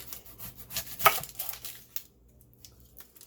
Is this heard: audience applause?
no